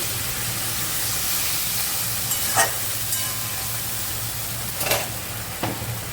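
Spice masala with a little water and sugar being stir-fried, producing a steady sizzling hiss with a low hum beneath and a few sharp spatula scrapes, close and without talk.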